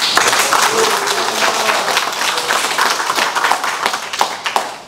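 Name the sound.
audience clapping and cheering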